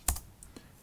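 A couple of quick, close clicks from a computer keyboard as a package name is typed in, crisp and brief against a quiet room.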